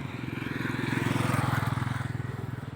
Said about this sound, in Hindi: सामने से देख रहे हैं, बाइक से लोग आ रहे हैं